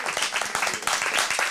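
A short burst of moderate audience clapping at a songwriter performance evening, lasting under two seconds.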